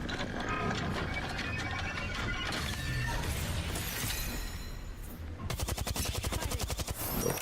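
Light machine gun firing in the Apex Legends video game, rapid bursts of automatic gunfire with clattering impacts, ending in a fast steady stream of shots.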